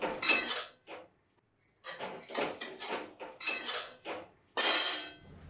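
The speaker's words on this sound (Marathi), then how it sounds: "काय एवढी भांडी आपटतेस?" Metal pots and utensils clatter and clang in repeated sharp bursts, close and loud, banged and tossed about in a kitchen with brief pauses between the clashes.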